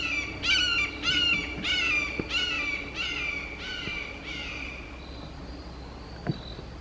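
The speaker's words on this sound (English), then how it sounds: "the hawks come through the yard calling and stuff frequently, but that was a little unusual" A series of about seven harsh, descending hawk screams repeat steadily for five seconds, loud and fairly close, then fade into quiet backyard ambience.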